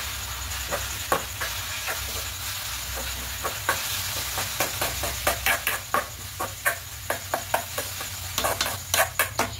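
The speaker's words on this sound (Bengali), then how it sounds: "এবার এখানে পাউডার দুধটা দিয়ে দেবো। দিয়ে সব খুব ভালো করে মিশিয়ে নেব।" A spoon scrapes and stirs a thick mixture of milk and powdered milk in a metal pan, with repeated soft clicks and swishes in an uneven rhythm over a low background hum.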